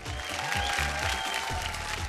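A studio audience at a televised Bhojpuri reality show applauds steadily to welcome the judges, dense continuous clapping with crowd noise and a music bed underneath.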